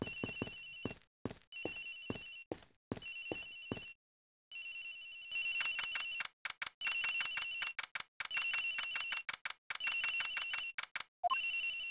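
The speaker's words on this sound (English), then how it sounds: "The ringing is coming from somewhere around here." A telephone in the Ace Attorney Investigations game rings in rapid repeated electronic bursts, starting as short pulses, pausing briefly, then returning as longer ringing bursts, clear and alone.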